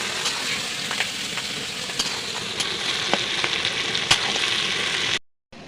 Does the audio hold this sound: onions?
yes